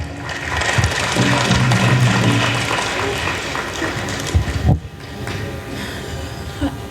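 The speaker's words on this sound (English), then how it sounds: "Let's give her a round of applause." Applause from an audience at a tribal council meeting, a steady broadband patter of many hands filling the room for several seconds, with a brief louder burst near the end and some background voices.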